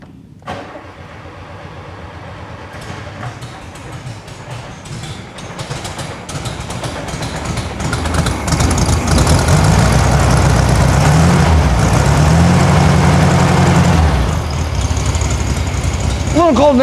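A 1972 VW Super Beetle engine cranks and fires, then settles into a loud, uneven idle with a galloping beat that rises in intensity and roars steadily close by.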